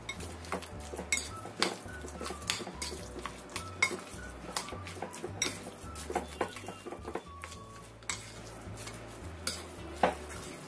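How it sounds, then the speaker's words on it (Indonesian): A spoon stirs sauce ingredients in a bowl in a steady rhythm, scraping with frequent light clinks of metal on dish, close up and without talk. "Kita aduk sampai rata, tercampur semua bahannya."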